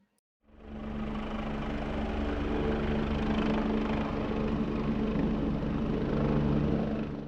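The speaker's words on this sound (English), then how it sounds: "The chopper blades thrummed like an overclocked hard drive through the void of the dead sky over Neosaka." Helicopter blades thrum in a steady, low, pulsing drone that starts abruptly after a brief silence and holds at an even, fairly loud level throughout.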